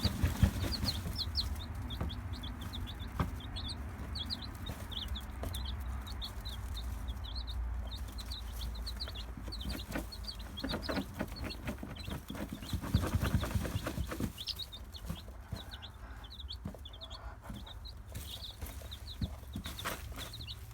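A broody hen and her chicks cluck and peep softly nearby while dust bathing, with rapid repeated high chick cheeps over low scratching and rustling, fairly faint and continuous.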